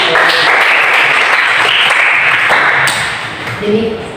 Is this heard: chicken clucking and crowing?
no